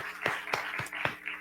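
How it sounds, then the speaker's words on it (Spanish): Sparse, scattered hand claps from a small audience at a Colombian book presentation, five or six distinct claps spaced irregularly, fairly close and moderately quiet. "para quien pido un aplauso"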